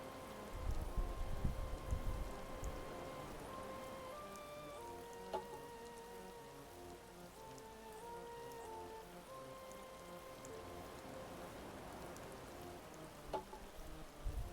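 Steady rain falling in Animal Crossing New Horizons, a soft continuous patter with gentle game music tones and occasional soft chimes, alone without talk.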